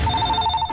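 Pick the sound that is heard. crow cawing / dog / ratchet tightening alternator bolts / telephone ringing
telephone ringing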